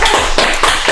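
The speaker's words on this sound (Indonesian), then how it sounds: "Boleh berikan tepuk tangan yang meriah untuk Karara" Studio audience clapping for guest Karara, a steady loud burst of applause filling the short moment with no talk over it.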